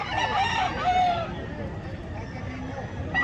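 Gamecocks kept for cockfighting crow at a market among a crowd, with a rooster's drawn-out crow rising over background babble and talk.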